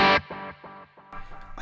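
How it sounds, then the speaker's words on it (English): Electric guitar through an analog delay pedal on a pedalboard, with a treble booster side engaged: a loud opening strum cuts off and leaves fading repeats that echo at a steady rhythm, followed by a few fresh picked notes, with no talk. "I also flicked on my main delay sound there"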